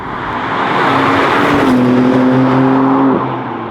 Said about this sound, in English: that is what the stock BMW M3 Touring sounds like